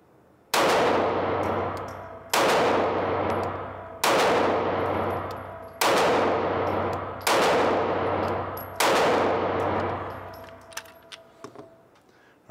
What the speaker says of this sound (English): this is our first 100 rounds through the Taurus G2C